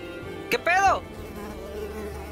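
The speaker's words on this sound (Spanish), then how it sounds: "¡Chinguen a su madre, pinches mosquitos!" Mosquitoes in the video game Unravel drone with a thin, steady buzz, and a sharper whining swoop flits past once near the start.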